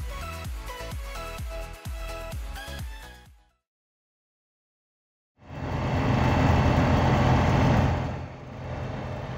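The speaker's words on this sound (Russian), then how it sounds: "Прогреваем двигатели перед полетом." Light aircraft engine on an A-22 FoxBat warms up before a flight, heard as a loud, steady rumbling drone after a brief silence and some music.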